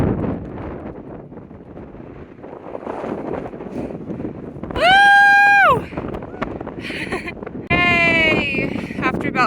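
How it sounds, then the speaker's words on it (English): Strong wind buffets the microphone at a 12,200-foot mountain summit on the Uinta Highline Trail, a loud, steady roaring rumble throughout, with people's voices cheering and calling out briefly over it. "And it is so windy."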